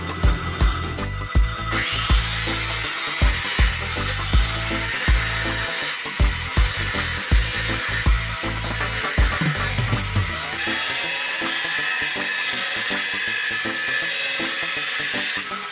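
A power tool grinds down the cut edge of an aluminium fan to round it, close and loud, with a steady whirring roar pulsing in regular strokes before settling into an even whine.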